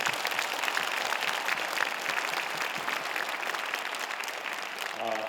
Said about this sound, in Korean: 우리 김해 시민들께 박수 좀 보내주십시오